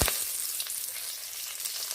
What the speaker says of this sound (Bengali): গোটা গরম মশলা দিয়ে দিলাম, আর ছোট চামচের 1 চামচ নিয়েছি কালো জিরে।